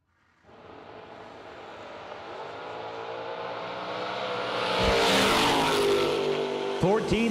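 A drag race with cars including a 1934 Chevrolet Roadster: engines rise from idle into a loud building roar as the cars launch and pull away, while an announcer talks over the noise.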